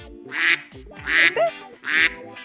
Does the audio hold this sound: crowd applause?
no